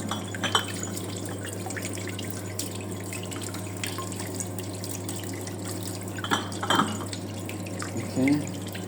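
A homemade washer runs with water inside, giving a steady low mechanical hum under sloshing and dripping water, with a few louder splashes toward the end.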